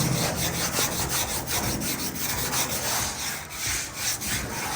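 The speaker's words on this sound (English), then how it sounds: "get my wire brush. Can't beat a good wire brush." A wire brush scrubs a rusty diesel fuel tank in steady, rapid back-and-forth strokes, making a continuous harsh scraping rasp up close with no voices.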